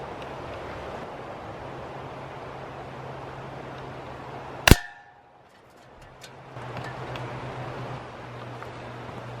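A single BB gun shot strikes a can outdoors with one sharp metallic clang, followed by a brief quiet before wind-like ambient noise returns.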